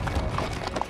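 Horses' hooves clip-clop on a dirt trail in Griffith Park, Los Angeles, a quick close-up run of uneven hoof strikes over outdoor background noise.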